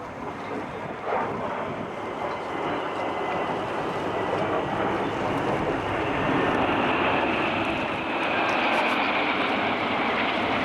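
An Airbus airliner on a flyby at the Farnborough airshow, a broad jet roar that swells gradually over ten seconds, mixed with wind buffeting on the microphone.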